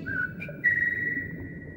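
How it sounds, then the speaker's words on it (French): A person whistles a few short tones: a brief low note, a quick higher chirp, then a longer sustained pitch, clear and close over faint room background, with no talking. "Au fait, tu sais siffler?"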